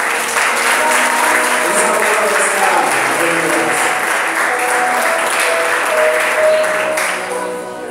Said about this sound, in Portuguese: as palmas vão ao Senhor